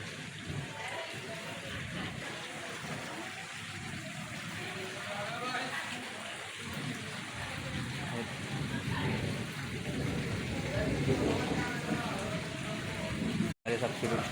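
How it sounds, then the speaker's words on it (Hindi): Heavy rain pours down steadily with a dense hiss that swells louder toward the end. Faint voices sit in the background. "अब भी आ गई और तेज़ बारिश।"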